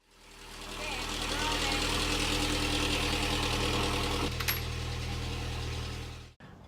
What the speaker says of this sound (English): Engine's been running for a while.